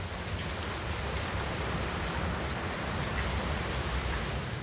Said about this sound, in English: Heavy rain means flooded fields.